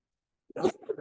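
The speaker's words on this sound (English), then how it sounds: "Sneeze" A single sneeze bursts out sharply after near silence, close and fairly quiet, trailing into a short breathy afterbreath in an indoor meeting.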